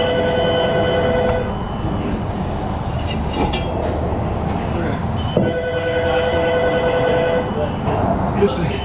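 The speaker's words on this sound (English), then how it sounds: "phone's ringing." A telephone rings in a car repair shop with a repeating electronic tone in two bursts, the first near the start and the second after a short gap, over workshop background.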